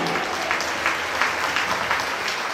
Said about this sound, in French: j'aimerais qu'on l'applaudisse très très